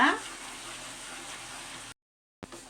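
Amla gooseberry candy mixture bubbling in a pan while being stirred: a steady soft sizzling bubble after a brief louder start, cutting to silence before resuming faintly.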